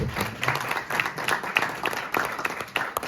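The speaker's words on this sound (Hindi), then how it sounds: "इन सब के लिए भरपूर तालियां जी" Audience applause at a restaurant prize day in Bahawalpur, a short burst of scattered hand claps with crowd murmur underneath, fairly close and steady.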